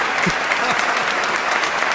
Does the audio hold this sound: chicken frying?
no